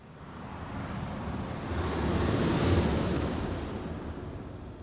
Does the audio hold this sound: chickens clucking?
no